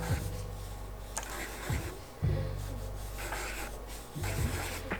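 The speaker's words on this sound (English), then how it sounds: "I'm just going to put that on my sketchbook and sketch it out." A pen scratches and rubs across a sketchbook page in loose strokes, a close, dry rasping that comes in short bursts with brief pauses between.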